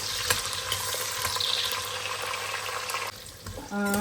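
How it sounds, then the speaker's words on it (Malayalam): Onion frying in hot oil while being stirred, a steady broadband sizzle with scraping clicks of the spoon, close and fairly loud; the frying fades near the end and a brief tonal ring enters. "അപ്പോൾ ഈ ഉള്ളി ഒന്ന് ചെറുതായിട്ടൊന്ന് വഴകുന്നിടം വരെ ഇളക്കി കൊടുക്കണം."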